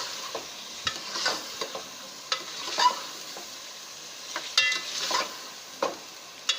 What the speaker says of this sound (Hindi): अब मैं डालूँगी इसमें चिकन। हमें चिकन को इसमें इतना पकाना है कि जो चिकन का कलर है वो चेंज हो जाए।